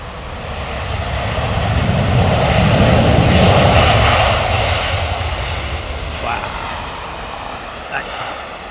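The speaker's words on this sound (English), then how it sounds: "That's minimal decel, that's literally idle reverser." Landing airliner in intense rain with thrust reversers at idle, a moderate engine roar that builds over a few seconds then fades as the aircraft slows, with a brief clunk near the end.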